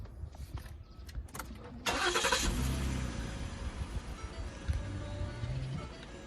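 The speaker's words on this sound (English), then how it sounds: "So I'll turn the car on and show you guys some of the lights" A car with flashing roof lights starts up: a short cranking burst, then the engine settles into a steady low idle rumble that carries on to the end, with no talk.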